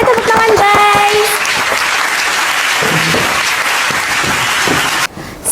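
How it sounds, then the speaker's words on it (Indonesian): Dense applause from an audience at a talk event, loud and sustained for about five seconds before cutting off, with a brief voice at the very beginning. "Tepuk tangan guys."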